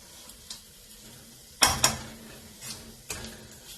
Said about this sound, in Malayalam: ഇതുപോലെ നന്നായിട്ട് വഴറ്റിയെടുക്കണം.